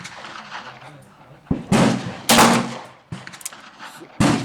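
Several sharp gunshots from a 2-inch .38 snub-nose revolver firing 200-grain round-nose loads over 2.7 grains of Unique powder, irregularly spaced loud cracks with echoing decay, outdoors and without talking.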